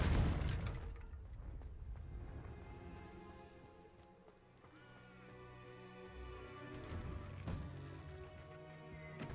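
In the Hogwarts Legacy video game, a Confringo spell explodes as a loud booming blast that trails off into a rumbling tail, with game music and ambience carrying on behind it.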